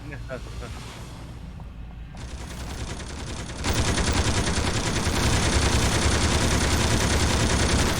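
Rapid machine gun fire from the City of Heroes superhero game, a dense, continuous loud rattle that grows heavier partway through, with players talking over it.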